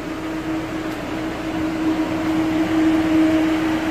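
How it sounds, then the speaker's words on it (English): Radiator cooling fans on a Citroen Berlingo 1.6 HDI running at full speed with the engine warning light on, a steady loud whirring roar with a constant hum, unbroken throughout. "Fans running at full speed."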